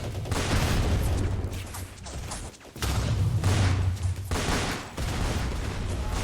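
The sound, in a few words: rifle gunfire in Roblox WW1 shooter video game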